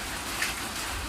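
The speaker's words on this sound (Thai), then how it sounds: "บรรยากาศฝนตกตกเนาะ" Steady rain falls outdoors while a Thai curry of cassia leaves with cow hide is being cooked, a dense, even hiss with no voices over it.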